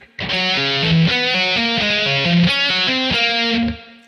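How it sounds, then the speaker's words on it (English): Distorted electric guitar runs through a series of four triads, a quick string of bright picked and hammered notes in steady succession, loud and alone for about four seconds. "now we're going to do another series of 4 triads that sounds like this"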